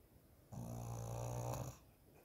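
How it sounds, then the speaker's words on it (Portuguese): A pet dog snores once, a single long, loud, buzzing breath lasting over a second, close up in a quiet room. "Você tava roncando."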